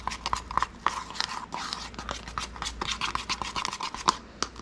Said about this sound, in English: I'm just going to stir it up real good